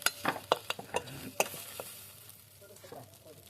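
Idli pieces fry in a pan over a wood-fired chulha with sharp stirring scrapes and clinks near the start, then a softer steady sizzle that fades into quieter crackling.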